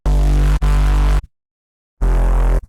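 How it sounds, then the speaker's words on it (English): Distorted saw-wave synth bass with dense harmonics through the low mids, two sustained notes back to back, then a gap of silence before a third loud note. "So together, the bass sounds like this."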